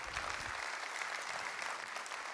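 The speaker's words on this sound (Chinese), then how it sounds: "我们再给我们老板一个热烈掌声" An audience at a company gathering breaks into steady, dense applause for the boss, a continuous wash of many hands clapping at moderate distance, with no speech over it.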